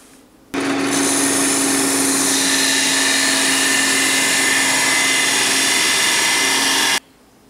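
A lathe gouge hollowing an apple wood lidded pot, starting abruptly and running as a loud, steady tearing whir for about six seconds before cutting off.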